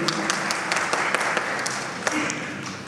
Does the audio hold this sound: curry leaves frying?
no